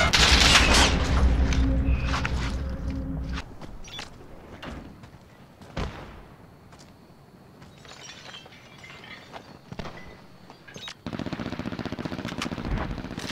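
An MG82 machine gun fires in a video game in loud, rapid bursts at the start and again near the end, with scattered single shots and impacts between.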